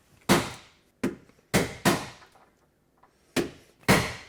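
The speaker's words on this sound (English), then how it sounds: "Sometimes all it takes is a hammer" A hammer taps a nail punch into a kitchen cabinet in a series of sharp, close knocks, irregularly spaced with a pair close together and short decays between, loud against a quiet room.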